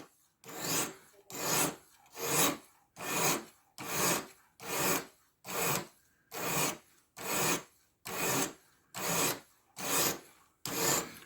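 Knife blade drawn across a Spyderco SAGE 5 Light sharpener in slow, even rasping strokes, about a dozen in steady rhythm, close and quiet with no talk.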